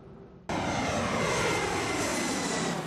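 A loud aircraft engine roars at Salt Lake International Airport, starting abruptly after a quiet moment and holding a steady, broadband drone close by with no talk.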